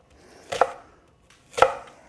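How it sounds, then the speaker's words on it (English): Two crisp, separate knife chops land on a cutting board while food is cut into chunky pieces for spicy turkey fried rice, each a sharp thunk with a short pause between, close and with no talk. "do a whole bunch of cuts like this"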